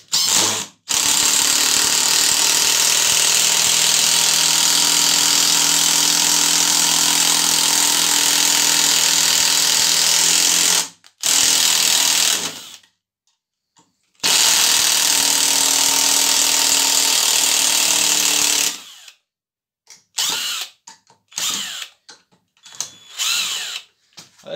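A Graphite Energy+ impact driver drives an ordinary black screw, its loud, close hammering whir running about ten seconds, pausing, then running again before ending in short bursts and clicks.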